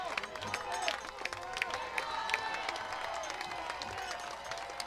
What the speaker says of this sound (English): Pickles fans cheering on their hitter.